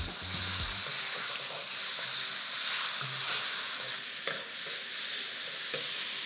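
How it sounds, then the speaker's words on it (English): Chicken stir frying in a hot pan with spring onion and ginger, a constant bright sizzle with occasional scraping stirs, close and moderately loud, no talking. "Just keep stir frying there until that chicken is just cooked."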